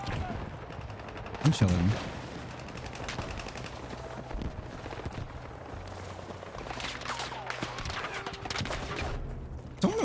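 Video game gunfire crackles in scattered shots and short bursts from several directions, one louder close burst standing out, while someone talks briefly over it.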